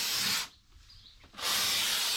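A loud steady hiss of spray foam insulation being sprayed onto a van's exposed single-wall steel, starting, cutting off for about a second, then resuming just as strongly.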